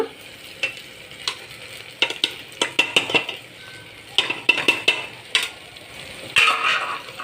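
Chilli powder, coriander powder, cumin powder and garam masala being stirred into ginger garlic paste frying in a pan for mutton curry, a steady sizzle broken by repeated sharp scrapes and clinks of a spoon against the pan, close and loud.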